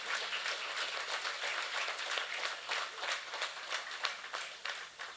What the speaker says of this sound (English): But then you need to give our leader a round of applause.